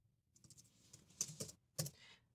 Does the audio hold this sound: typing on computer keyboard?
yes